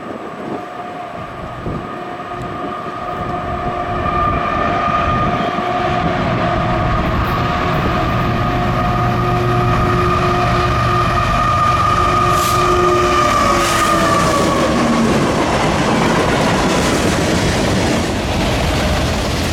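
A Norfolk Southern freight train hauled by a pair of GE Evolution-series locomotives rumbles past close by on the Chicago Line, with a continuous roar of rolling wagons and squealing wheels building and holding steady throughout.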